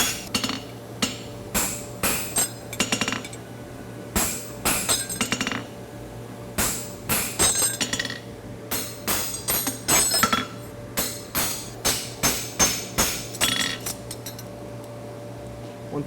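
Rapid ringing hammer blows on a metal horseshoe, struck in quick bursts with short pauses between, sharp and close, with a steady hum underneath.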